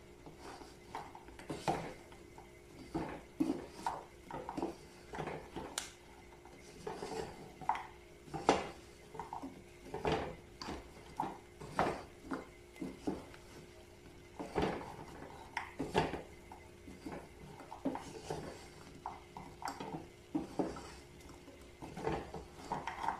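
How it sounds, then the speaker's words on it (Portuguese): Fresh coconut being stirred and caramelized in a pan, a spoon scraping and knocking against the pan in quick irregular strokes, steady and close, with no talking. "Não pode parar de mexer, senão vai queimar. O segredo de fazer esse coco é mexer."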